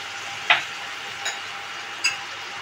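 Ground tomato paste sizzles softly in a pan of Bengali fish curry, a steady frying hiss broken by three sharp utensil clicks spaced apart.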